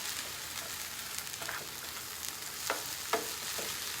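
Food cooks and softens in a pan with a steady, fairly quiet frying hiss, punctuated by a few light stirring scrapes and clicks.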